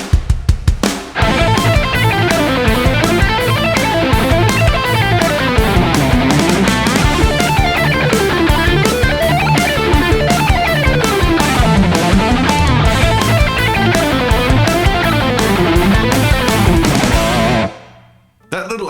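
A fast electric guitar etude linking triads and scales in an 80s shred style, dense sweeping arpeggio runs rising and falling over a backing track, loud and steady, then stopping abruptly near the end.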